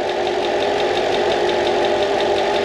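A Mercedes CL55 AMG engine, run after long storage with a suspected oil leak at the top, idles steadily and loudly up close, with a constant droning hum and a faint rhythmic ticking throughout.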